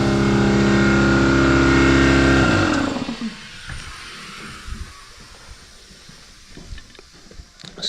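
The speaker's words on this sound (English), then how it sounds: "Air compressor's running." An air compressor runs loud and steady in a home shop, then spins down and stops partway through, leaving faint clicks and handling noises in a quiet room.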